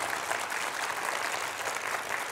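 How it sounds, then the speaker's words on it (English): Round of applause for a speaker, a dense, steady wash of many hands clapping at moderate level for a couple of seconds. "Can we get a round of applause for him?"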